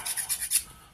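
A hand file rasps across a plastic model part, several quick short strokes in a close, brisk rhythm, ending with a small knock.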